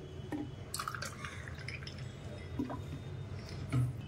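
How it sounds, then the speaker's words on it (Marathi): Cold water poured into a glass of lemon-mint syrup with ice for a summer drink, soft close trickling and dripping with small splashes, quiet and without talk. "थोडं थंड पाणी"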